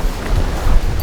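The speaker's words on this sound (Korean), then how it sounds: "바람 엄청 부는구만" Strong wind roars steadily across a microphone at a lakeside canoe campsite on Chungju Lake, a loud continuous low rumble with gusty surges and no speech.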